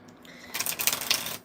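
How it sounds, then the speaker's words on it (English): Tarot cards are shuffled close by in a short burst, a quick riffling patter of card edges that builds after a brief quiet start, with no voice. "Let me shuffle this up a little bit."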